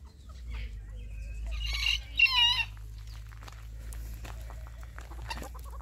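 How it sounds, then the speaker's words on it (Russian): Chickens cluck and a rooster calls in a bird enclosure at the Burgas zoo, with loud bursts of squawking near the middle over a steady low outdoor rumble. "Разная птица. Куры, индюшки, цесарки. Ой, петушок. Кукареку."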